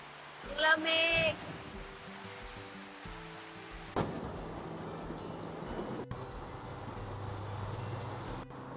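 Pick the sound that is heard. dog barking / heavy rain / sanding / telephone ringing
heavy rain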